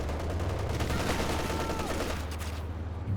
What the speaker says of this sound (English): MG getting the suppression on there